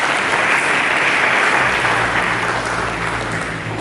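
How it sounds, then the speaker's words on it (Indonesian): Dense crowd applause at a church sermon, steady and loud throughout, with a low hum of organ or keyboard tones entering underneath midway. "Mari kita berikan tepuk tangan bagi Yesus Kristus."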